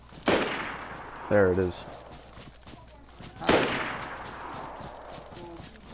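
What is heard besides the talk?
Mosin rifle gunshots in a video game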